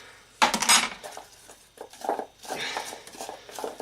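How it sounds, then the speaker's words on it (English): Garlic cloves shaken hard inside a container to strip their peel, producing loud clattering rattles in an opening burst, then more uneven bouts of knocking and rattling. "I give it a good old vigorous shake until all the peel comes off them"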